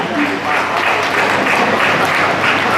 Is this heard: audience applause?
yes